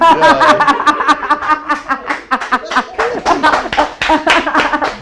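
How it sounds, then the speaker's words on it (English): A production team claps from behind the camera with sharp, rapid, close hand claps, mixed with voices and some laughter. "The whole team is clapping for you"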